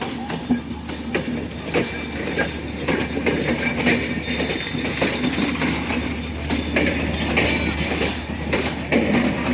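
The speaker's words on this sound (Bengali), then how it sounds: "প্রবেশ করলো দ্রুতযান।" The Drutojan express train, crowded with passengers riding on its roof, rolling into Parbatipur railway junction with a loud, continuous rhythmic clatter of wheels over rail joints and occasional squeals, close by throughout.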